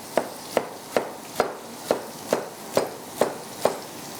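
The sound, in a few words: slicing tomatoes for khatti lauki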